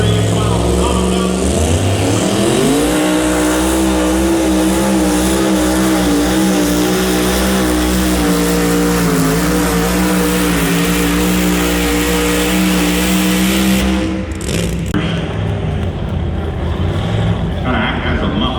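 A truck and tractor pull machine at a county fair roars at full throttle, its deep engine note climbing and holding loud for about fourteen seconds before cutting off, with crowd noise and an announcer-style voice after.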